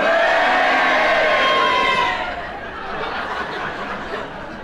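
A studio audience at a radio panel show erupts in a loud mixed roar of cheers and boos, which fades into lingering murmurs and chuckles.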